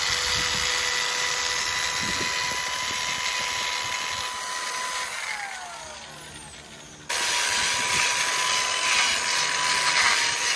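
A Kohler generator engine, iron-built for a marine setting, drones steadily up close with a continuous mechanical hum and whine, dipping briefly midway before returning at full strength.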